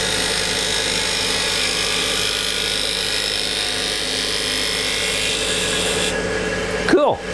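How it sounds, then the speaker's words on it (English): A power tool makes a pull cut through olive wood while shaping a cheese knife, giving a steady, loud high-pitched whine that runs continuously for several seconds before a brief clatter as the tool stops. "Now I'm going to just do a pull cut here and take this narrower."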